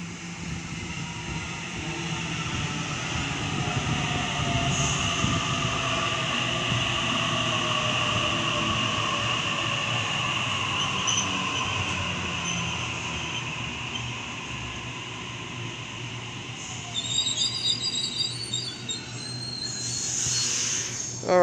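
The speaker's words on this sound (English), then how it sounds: "here's my train arriving into platform 2" A commuter train on a Lindfield service rumbles into platform 2 at Waverton station during the afternoon peak, steadily, with a broad roar and rising hiss, brakes squealing faintly near the end as it slows.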